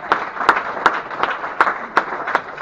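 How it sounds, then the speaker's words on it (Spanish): A small audience at a teachers' gathering in Querétaro claps in a slow, rhythmic pattern, about seven distinct beats in even succession, close and fairly loud. "un aplauso, por favor."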